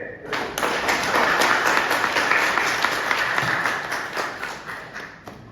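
Hands of a live audience clap together in a sustained, dense burst of applause that swells and then tapers off over several seconds.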